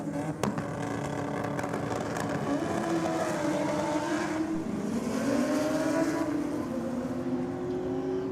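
A B2R Motorsports Honda Civic race car accelerates hard down a drag strip, its engine note loud and close, climbing steadily in pitch through the gears over a constant roar with no pauses.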